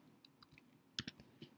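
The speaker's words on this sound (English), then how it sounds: "as I'm typing onto the screen" Username being typed on a computer keyboard at a login screen: a handful of crisp, close key clicks in an uneven rhythm, with a tight cluster of quick presses in the middle and no voices.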